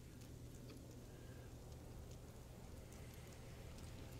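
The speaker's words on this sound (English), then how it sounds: "It's toxic rain." Toxic rain falls in the No Man's Sky video game, a steady, soft patter of raindrops hitting surfaces with a low background hum, faint and continuous throughout.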